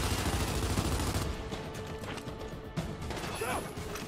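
Gunfire at the boot camp range in Gears 5 with pistols and assault rifles: a loud, continuous burst of shots at first, then scattered, sharper individual cracks, with a voice talking in between.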